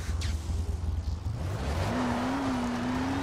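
A car drives in the video game Dying Light: The Following, its engine a steady low drone that rises into a higher revving tone partway through, loud and close with no talk.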